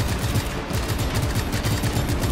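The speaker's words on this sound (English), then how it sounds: "they're still shooting at me" Rapid gunfire from the video game Just Cause 3, a dense, steady stream of overlapping shots and bursts filling the whole moment without pause, loud and close with no talking.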